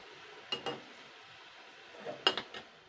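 Gram flour bhabra fritters, a Purulia specialty, are gently turned with a metal utensil in a frying pan, a few soft scrapes and clinks in two brief clusters over a faint, quiet sizzle.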